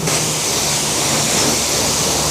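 Continuous loud hiss of a high-pressure water spray at a self-service car wash in Melbourne, a dense steady roar held close throughout with no speech.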